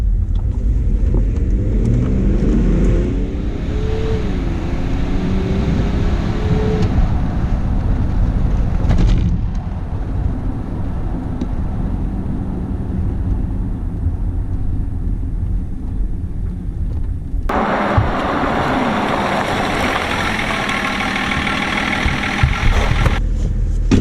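A Range Rover's 3-litre engine pulls under acceleration while driving, a loud continuous drone with shifting pitch and a brief lull before the sound rises again near the end.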